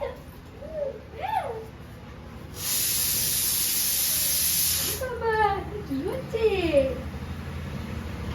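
A pressure cooker cooking khichuri vents steam in a loud, steady hiss of a couple of seconds, with someone talking before and after.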